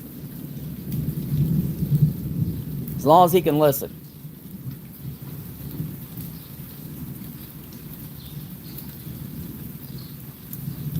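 Steady rain on a rainy day pours with a low rumble of thunder beneath it, continuous and fairly close, while someone speaks briefly over it.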